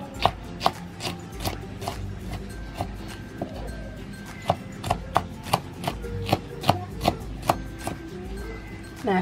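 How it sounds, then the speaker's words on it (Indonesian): A knife slices chili peppers on a board with crisp, evenly spaced chopping taps, about twenty close strikes in a steady rhythm. "Nah, ini cabenya saya akan iris juga."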